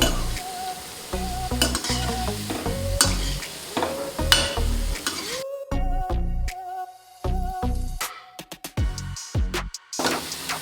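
Gulab jamun made from Nandini mix fry in oil over a low flame, a steady sizzle broken by frequent scraping and stirring clinks of a utensil against the pan, close and fairly loud.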